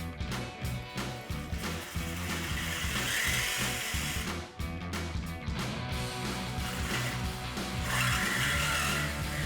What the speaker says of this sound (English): So I'm gonna cut the pipe with my Sawzall.